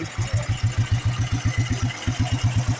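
An old BSA motorcycle engine close by, beating in a rapid, even thump with loud low pulses repeating steadily and one brief hiccup in the rhythm.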